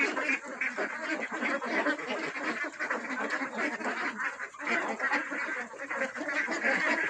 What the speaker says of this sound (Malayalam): താറാവുകൾ